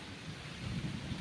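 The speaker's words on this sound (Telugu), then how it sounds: "ఉరుముతుంది, గాలి కూడా ఈస్తుంది." Low, continuous thunder rumbles over a steady wash of rain under a cold, overcast sky, with the wind picking up. The rumble stays close and even throughout, with no voices.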